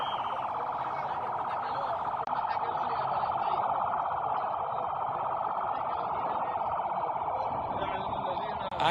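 An ambulance siren wails steadily and loudly at a Gaza border protest near the fence, a continuous oscillating tone holding throughout without a break.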